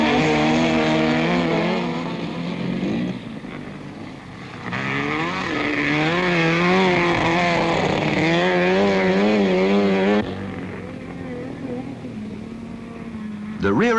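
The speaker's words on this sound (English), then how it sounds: "The rear engine class is keenly contested by imps and VWs in various states of tune." Rear-engined 1970s autocross racing cars, Hillman Imps and VWs in various states of tune, passing with loud rising and falling engine whines, one car close and dominant mid-clip before fading, with a commentator talking over much of it.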